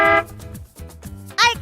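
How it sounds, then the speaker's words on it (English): A car horn honks in short bursts, a loud blast at the start and another near the end, with quieter tonal sound in between. "It's the sound of a car horn."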